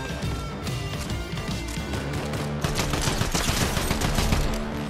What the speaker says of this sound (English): Test out the new drum gun.